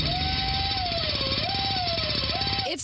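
A dental drill sound effect in a radio ad for a dentist office: a loud, high whining tone that wavers and dips in pitch over a rapid buzzing rattle, steady for a few seconds before cutting off.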